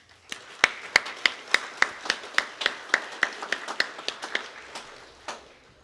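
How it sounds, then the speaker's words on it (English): Audience at a 3 Rivers annual meeting gives a round of applause: a sparse, evenly paced run of about eighteen sharp, distinct hand claps that fades toward the end, moderately close, with no talking. "please give them another round of applause"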